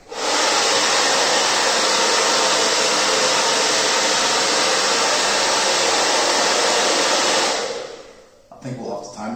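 A hair dryer on high heat warms the grip tape on a Slick Revolution Flex E2 Carbon Edition electric skateboard, blowing loud and steady for about eight seconds before it cuts off, followed by faint handling noises.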